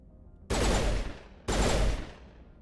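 Two long bursts of automatic gunfire in the Mass Effect video game, each about a second long and loud against a quiet background.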